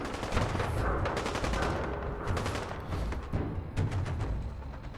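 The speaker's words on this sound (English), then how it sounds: "Gunfire." Rapid bursts of gunfire from the video game Fallout 4, loud and close, with dense overlapping shots that rattle like machine-gun fire for the whole stretch and no voices.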